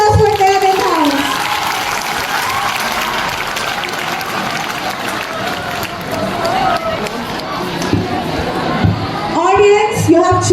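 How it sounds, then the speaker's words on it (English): A school audience in a house quiz contest breaks into applause, a dense sustained wash of clapping and crowd noise filling the hall, with voices rising near the end. "Give a big round of applause for them in house."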